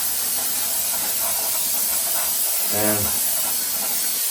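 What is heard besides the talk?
spraying a can of brake cleaner on car parts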